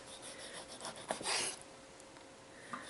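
A knife slicing raw chicken breast into half-inch pieces on a board, with soft rubbing, rasping strokes and a brief louder cut near the middle, all close and fairly quiet with no talking.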